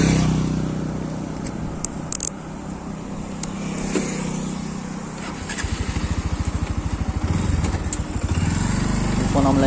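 A Bajaj Pulsar NS125 motorcycle rides along at a steady engine drone, with road and wind noise. The exhaust note becomes a firmer, more pulsing rhythm as the bike picks up pace.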